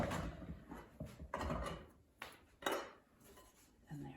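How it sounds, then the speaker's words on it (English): A plastic scraper works sourdough loose from a bowl and turns it onto a wooden bench, giving soft scraping, knocks and muffled thuds in uneven bursts, close by. "it's time to turn the dough out of the bowl onto the bench, which I just use a scraper"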